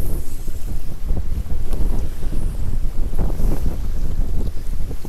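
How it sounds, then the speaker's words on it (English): Strong wind of around 30 mph buffets a fishing boat on Green Bay, producing a loud, continuous roar of gusting air and microphone wind noise with no pause. "The wind is blowing."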